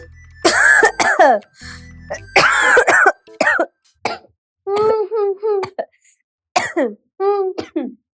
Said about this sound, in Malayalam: ചുമ, വില്ലൻ ചുമ, ഇതൊക്കെ വന്നാണ്ടല്ലോ പിന്നെ പോവത്തില്ല